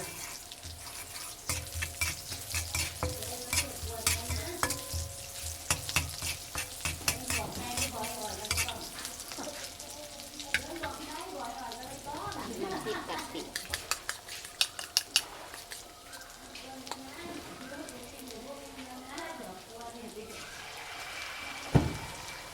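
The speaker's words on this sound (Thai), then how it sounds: "ทอดไข่สุกแล้วจ้ะพี่น้อง" Eggs fry in a pan and get stirred with a metal utensil, a continuous sizzle mixed with rapid scraping and clattering strokes, busier near the middle, ending in a louder clank; no speech heard.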